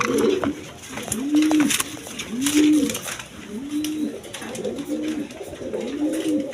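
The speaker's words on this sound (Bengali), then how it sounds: "এইখানে এক পেয়ার জ্যাকোবিন কবুতর আছে" A pair of black Jacobin pigeons coo in a steady rhythm, about five soft, rounded calls evenly spaced and close by, with no voices.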